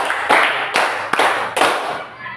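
During a counted clapping game in a school physical education class, a group of children claps four times at an even pace. The claps are crisp and near, with faint voices murmuring underneath.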